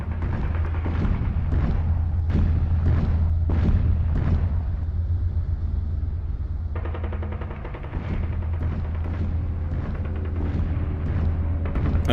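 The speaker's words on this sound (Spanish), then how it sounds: "Ya se divisan desde el Alcázar las explosiones de los cañones de los nacionales." Artillery cannon fire during the Spanish Civil War siege of the Alcázar of Toledo, a loud, continuous barrage of booming blasts and rapid gunfire bursts with no speech.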